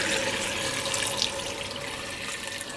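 Vegetable stock for potato soup pours and drains steadily in a continuous, fairly loud rushing of liquid with no voices.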